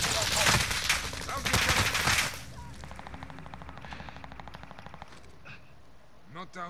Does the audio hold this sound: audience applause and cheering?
no